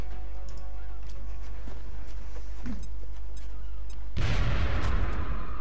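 A grenade thrown at very close range in the video game XCOM Enemy Within goes off in a single loud, sudden blast after a few seconds of quiet low hum, then rumbles on to the end.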